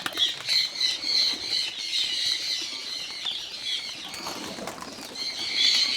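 Young Khaki pigeons in a loft giving repeated harsh squawks with bursts of wing flapping, close and fairly loud, several birds overlapping with no talk.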